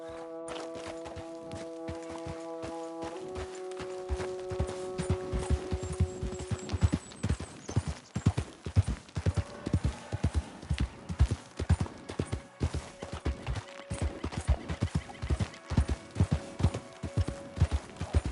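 A horse in Red Dead Redemption II gallops with rapid, rhythmic hoof clops that grow louder and steadier after a few seconds, under sustained in-game musical tones.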